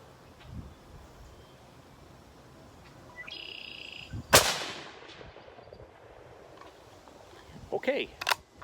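A 1917 Enfield Sporter rifle fires at a two hundred yard range, one loud sharp crack in the middle followed by decaying echo, then another burst of shots near the end, with soft outdoor ambience between.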